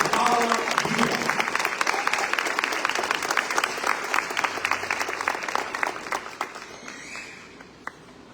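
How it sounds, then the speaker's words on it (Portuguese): An audience claps in sustained, dense applause at a talk, holding steady for several seconds before thinning out and fading to a few last claps. "Eu quero que vocês recebam uma salva de palmas, o Bispo Joseph Maté, o Paula Vila."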